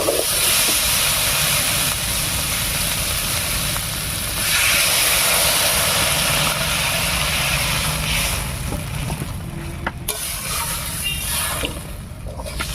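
Water goes into a pan of simmering Bengali fish curry masala with potatoes and taro. A loud, steady hiss and sizzle runs throughout and eases slightly near the end.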